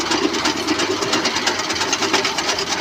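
An electric chaff cutter motor runs steadily while cutting fodder for dairy cows, a continuous mechanical whir with a rapid rhythmic chatter that holds even throughout, close and fairly loud, with no voices.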